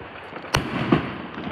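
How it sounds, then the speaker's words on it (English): New Year's Eve fireworks bursting outdoors at midnight into 2024, one sharp crack followed by a softer second pop, with distant rumbling between them at moderate loudness. "I think there might be more fireworks."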